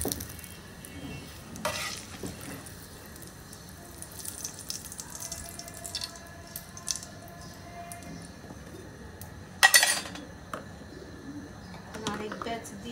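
Pitha fry in oil with a soft, continuous sizzle, punctuated by occasional scraping stirs and a louder clatter, while a person talks quietly nearby.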